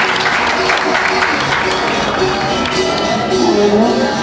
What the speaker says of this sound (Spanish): Los aplausos entonces para la señora Amalia Sarte y Galao